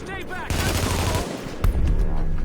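Assault rifle fire in The Division rattles out in a dense, sustained burst of rapid shots with a louder crack near the end, while someone talks over the start.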